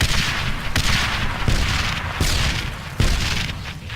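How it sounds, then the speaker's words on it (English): In the Darkest of Days video game, set at Little Bighorn in 1876, a rapid series of grenade blasts and booms roll over one another in dense, loud battle noise with sharp thuds every second or so. "I think you figured out them grenades"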